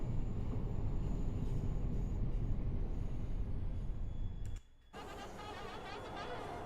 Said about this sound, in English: It needs some WD-40, this train.